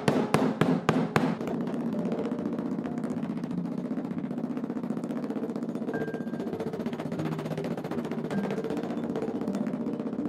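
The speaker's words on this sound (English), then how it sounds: "In order to soften the layers a little bit, we go through it with this rubber hammer." A rubber hammer pounds softened layers of carton board in a quick burst of about six dull thuds at the start, then only a steady low background hum remains.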